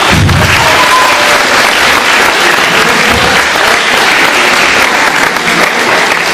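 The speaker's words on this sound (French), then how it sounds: "Vous pouvez l'applaudir." Loud, sustained applause from a large audience at a magic show, dense clapping filling the whole stretch without a break.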